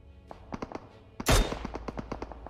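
Gunfire in the mobile battle royale game PUBG Mobile: scattered quick shots throughout, with one loud, sharp, bassy blast in the middle, heard fairly close with no talking.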